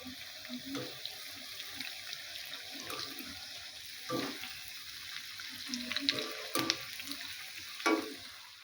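Palm fruit fritters (taler bora) fry in oil, a soft continuous bubbling sizzle with scattered louder crackles and occasional clatter of a utensil, fairly faint.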